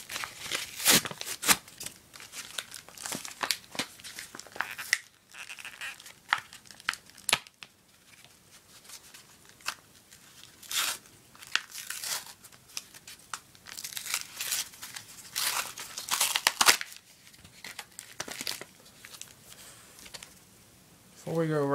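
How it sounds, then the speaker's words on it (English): Pokémon card booster pack wrappers, Next Destinies packs, being torn open and crinkled close by in repeated bursts of crackling foil rustle, with brief pauses between rips and a few soft handling noises. "I'm gonna open up the packs on camera"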